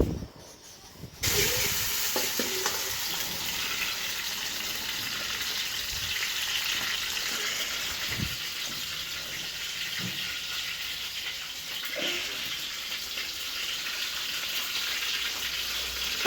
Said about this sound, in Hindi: सबसे पहले घी में टमाटर डालें